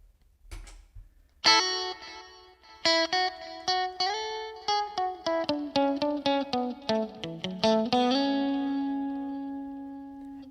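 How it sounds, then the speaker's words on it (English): A Fender Mustang GTX electric guitar effects unit plays a run of plucked notes and chords, each washed in spacious stereo reverb and echoing stereo delay, ending on a long sustained ringing tone. "let's turn on that stereo reverb on the stereo delay"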